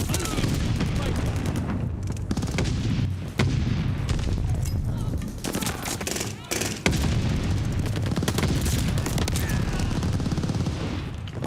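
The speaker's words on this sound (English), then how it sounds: "Throwing stun grenade!" Dense, loud bursts of video game gunfire fill the whole stretch, with booming blasts from a stun grenade and rapid shots one after another, almost without a pause.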